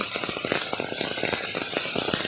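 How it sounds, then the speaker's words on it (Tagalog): Heavy rain pours down during a flood, a dense, steady hiss with scattered sharp drop impacts close by, continuous and fairly loud with no voices. "Tataas pa to guys kasi grabe ang ulan."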